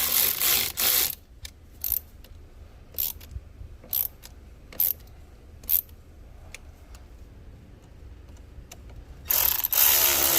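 A ratchet clicks in short bursts while tightening the 10 mm battery terminal nuts on a Volvo S60, with brief sharp clusters of clicks separated by quiet pauses, close and fairly loud.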